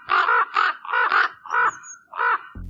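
A raven calls alone at close range, a run of five or six harsh, croaking caws in quick uneven succession.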